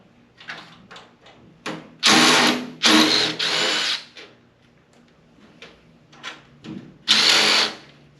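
A power drill backs screws out of a burned metal frame in several loud bursts of whirring, separated by short pauses and small handling clatters, with no speech.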